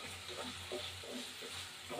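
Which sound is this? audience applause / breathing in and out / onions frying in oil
onions frying in oil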